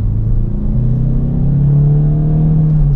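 A 2013 Peugeot 508 Hybrid with 200 horsepower and a robotized gearbox accelerates, its engine droning loudly with a low tone that climbs steadily in pitch, heard from inside the car with no talking.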